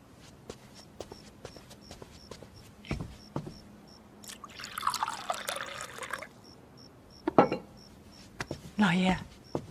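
Tea pours in a soft, gurgling stream for a couple of seconds and trickles again briefly later. Footsteps, light clatter and a quiet background tone surround it.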